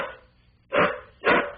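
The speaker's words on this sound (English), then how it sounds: "I can make him bark for you guys." A dog barks twice, loud and close, the two sharp barks about half a second apart, picked up in a radio studio.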